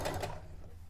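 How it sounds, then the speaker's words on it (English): A computerized sewing machine whirs briefly with a mechanical hum that quickly fades, no voices present. "I like a computerized sewing machine because you just turn it off and on again"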